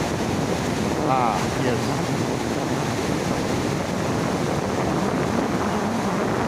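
Water gushing from the opened gates of Khadakwasla dam near Pune after heavy monsoon rains, heard as a steady broadband roar mixed with gusting wind noise, continuous throughout, with a brief voice speaking.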